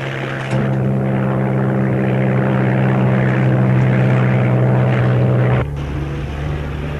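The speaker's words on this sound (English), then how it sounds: "Amerikanisches Flugzeug." An American propeller airplane passes close and loud, its engine a steady droning hum with a strong low tone that swells in, holds for several seconds, then abruptly drops away.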